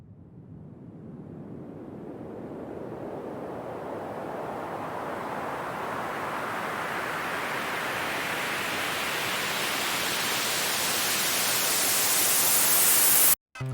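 A filtered white noise riser built in FL Studio swells steadily for about thirteen seconds, brightening as the filter opens, then cuts off abruptly, with no one speaking.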